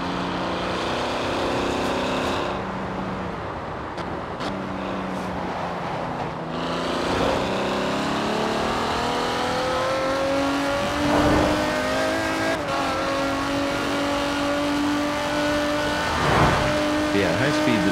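A Mercedes CLK GTR's engine in Forza Horizon 4 revs and climbs through the gears, a close, loud, harmonically rich drone rising in pitch with shifts and brief dips, while someone talks over it.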